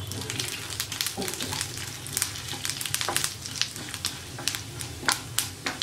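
Whole spices and dried red chillies sizzle and crackle steadily in hot ghee for a tempering, with sharp pops scattered through a continuous frying hiss, heard close and alone.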